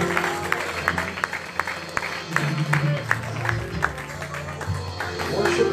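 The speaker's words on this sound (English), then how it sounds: "Another hand clap of praise." A church congregation claps their hands in praise at a Sunday morning service, a steady rhythmic clapping of many hands running under a voice and tonal sound.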